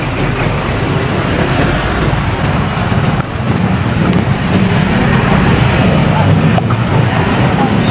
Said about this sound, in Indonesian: Ini macet di mana-mana teman-teman.